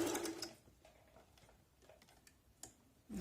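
A Singer Talent 3321 sewing machine stitches a decorative pattern in short, soft mechanical bursts of ticking, with quiet pauses and faint handling noise between runs; fairly low in level.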